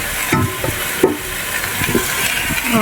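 Luchi shak greens sizzle and crackle in a hot pan while being stirred, with intermittent scraping clicks of a utensil against the pan.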